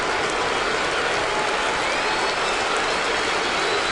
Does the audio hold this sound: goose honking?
no